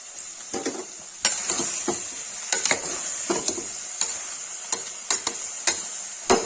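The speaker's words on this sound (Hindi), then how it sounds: "न्यूट्री आलू भून रहा है" Soya chunks (nutri) and potatoes frying in oil, a steady hiss of sizzling broken by irregular clicks and taps of a spoon stirring the pan.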